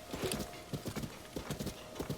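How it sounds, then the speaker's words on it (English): Horse hooves galloping in the video game The Legend of Zelda: Tears of the Kingdom, a quick steady clip-clop rhythm of hoofbeats, close and moderately loud, with no speech. "I'm just kind of letting the horse go wherever it wanted to."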